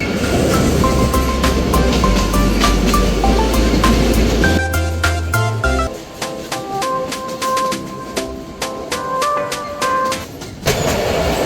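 Rajshahi commuter train running on the rails from Rajshahi toward Rohanpur, loud close rumble and rhythmic clickety-clack of wheels over rail joints, with metallic ringing and squealing tones as it rolls on.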